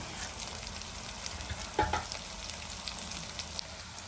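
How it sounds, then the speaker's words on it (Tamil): Sliced big onions and about ten broken dried red chilies frying in oil in a pan for chicken uppu kari, a steady quiet sizzle with a brief clatter of stirring midway. "இப்போது நம்ம இதில் வெங்காயம், பெரிய வெங்காயம் கட் பண்ணி வச்சுருக்கேன், அதை இது கூட சேர்க்குறேன்"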